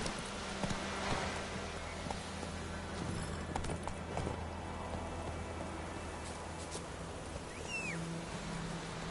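Hooves of Roach, a horse in The Witcher 3, clip-clop at a steady gallop, close and fairly loud over a busy ambient bed that includes a rain-like patter.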